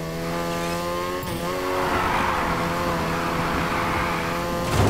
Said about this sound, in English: Now try and hold those drifts. Steer into the corner and hit the gas for more slide.